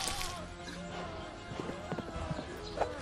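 Horse hooves clip-clop in the VR game Tales of Glory during horseback riding, a steady trotting patter under a dense wash of game ambience, with a possible whinny and a sharp hit near the end.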